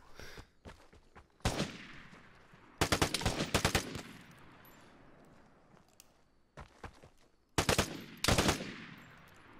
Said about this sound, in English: Is he trying to snipe with that combat magnum, bro?